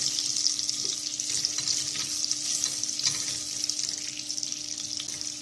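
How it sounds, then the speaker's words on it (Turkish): Butter melts in a pot over low heat with a steady sizzle and frying crackle, a constant hiss with faint clinks running throughout, and no talking. "1 yemek kaşığı dolu dolu tereyağı, tereyağını güzelce eritelim."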